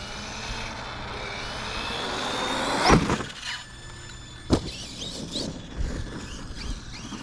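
An Arrma Kraton 6s EXB RC truck drives outdoors: an electric motor whines and surges as it runs, with two sharp thuds of landings or impacts along the way, and no talking.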